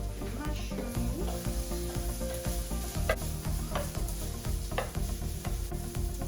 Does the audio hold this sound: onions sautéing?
yes